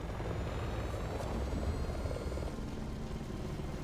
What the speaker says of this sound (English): Ada just gets to like ride a helicopter through all this